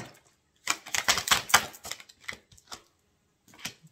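A tarot card drawn from the deck, with a close crisp burst of shuffling and card rustling in a quiet room, followed by a few softer flicks and a brief final slide.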